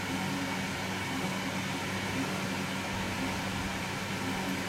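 A Creda Simplicity TR7 compact 3kg tumble dryer runs on its lower heat setting, giving a constant even whir and motor hum with faint tonal drone, steady and unchanging throughout.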